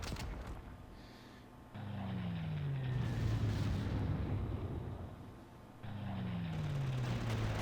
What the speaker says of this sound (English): Ah, there's artillery there.